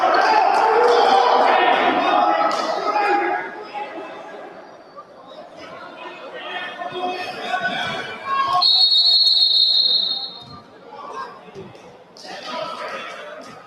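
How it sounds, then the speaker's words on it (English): At a men's college basketball game between CCBC Dundalk and Northampton, the referee's whistle gives one sustained shrill blast midway, over crowd chatter, ball bounces and court noise in a busy gym. "And a whistle blows."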